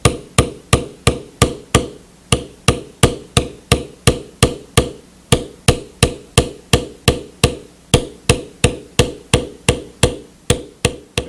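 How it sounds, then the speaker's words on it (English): A metal bevel tool is struck against leather while tooling an oak leaf pattern: steady, evenly spaced sharp taps, close and distinct, repeating quickly throughout with no voices. "I am walking it by tapping it, and as I allow it to rebound, I can move it. We will now bevel the other side."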